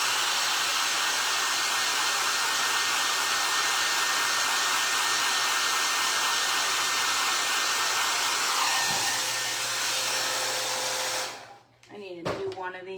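A hair dryer blows steadily and loudly close by while drying a scarecrow craft made from a recycled can, then cuts off near the end, followed by a few brief clattering handling noises.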